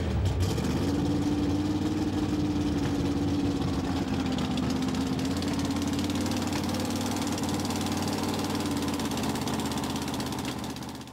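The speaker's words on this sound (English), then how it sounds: "this almost completed pro street pickup truck with a small block Chevy engine" A nearly finished pro street pickup truck with a small block Chevy V8 runs steadily with a deep, rough idle, loud and close, holding a constant rumble before easing slightly at the end.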